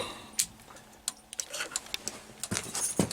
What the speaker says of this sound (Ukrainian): Зараз клацнемо аварійку, глянемо.